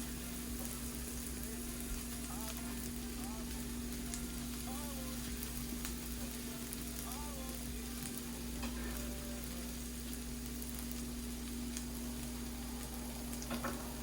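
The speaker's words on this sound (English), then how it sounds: "Our onions are getting soft, so let's bring in the ginger and garlic." Ginger and garlic sizzling with softened onions in a pan for an aloo matar gajar sabzi with methi, a steady even frying hiss with faint stirring, quiet and continuous without talk.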